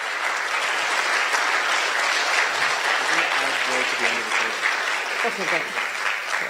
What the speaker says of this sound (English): I just want to have a round of applause for these candidates who have stepped up